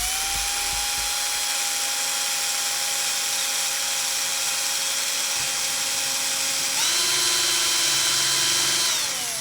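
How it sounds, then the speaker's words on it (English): A power drill runs at its highest speed setting, boring through cardboard with a steady high whine that jumps briefly in pitch near the end before winding down. "make sure that your drill is on the highest speed setting so that you can go full bore into that piece of"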